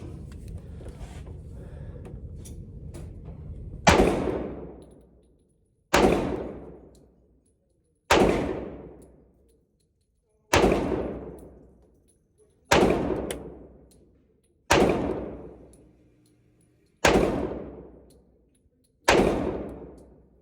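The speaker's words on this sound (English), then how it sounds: "First shot." A Cimarron 1911 A1 .45 ACP pistol fires steel case ammunition at about 10 yards, eight sharp loud reports spaced roughly two seconds apart, each with a brief decaying ring, after some quiet shuffling at the start.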